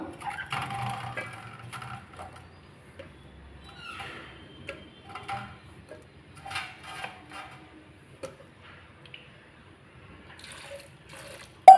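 Water splashes and trickles into a pot in short, uneven bursts, fairly close, with quiet gaps between pours.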